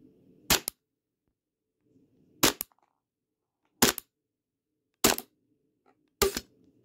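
An AAP01 airsoft gas pistol fires 0.25 gram BBs on semi-auto: five sharp, loud cracking shots, each with a short trailing rattle, spaced a second or more apart with quiet gas hiss between.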